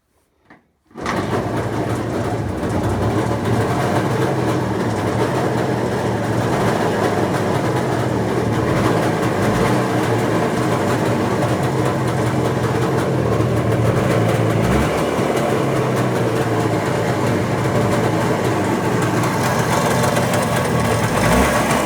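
A Jawa motorcycle engine starts and keeps running, a loud, close, steady mechanical drone with rapid rattling and a low throb that holds for about twenty seconds with slight swells, with no talk.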